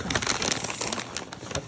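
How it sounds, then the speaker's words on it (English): Pecans sprinkled by hand onto a breakfast parfait, landing in a quick scatter of light, close ticks and clicks that thin out toward the end, with no talking. "So I just sprinkle my pecans around."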